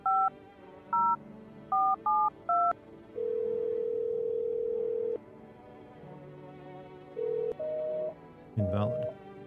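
Telephone keypad tones being dialed in the video game No I'm Not A Human, a quick run of short beeps, then a long steady tone, then further short tones and a brief noisy burst at the end.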